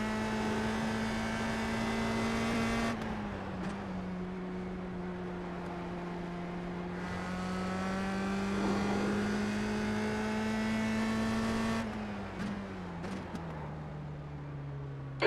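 A USF-2000 race car engine at Brands Hatch drones steadily from onboard, pitch climbing and dropping through gear shifts, with a sharp downshift near the end.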